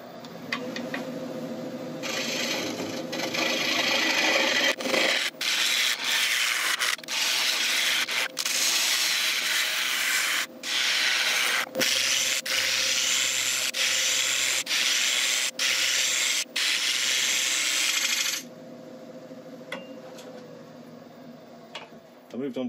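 A Hope hollowing tool cuts into a big ash bowl spinning on a woodturning lathe, a loud continuous rough shearing with brief dips as the cut pauses, fading to the lathe's quieter whir near the end.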